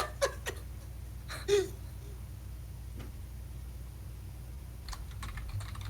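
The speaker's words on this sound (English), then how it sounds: "Why are you typing this much?" Someone types on a computer keyboard in bursts of quick, close key clicks separated by pauses, over a low steady room hum, with a faint breathy sound near the start.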